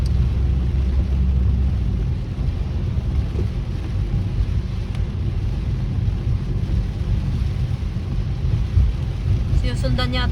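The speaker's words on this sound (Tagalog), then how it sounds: "Sinusundan yata tayo ng ulan eh." Rain and low thunder rumble around a moving car on a road trip through Quezon Province, a steady wash of road noise and rainfall with a faint voice near the end.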